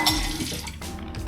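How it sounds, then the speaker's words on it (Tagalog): Dishes being washed at a kitchen sink under running tap water, with a continuous splash and light clinks of plates and cutlery close by, no voices. "Hugas na naman ng pinggan."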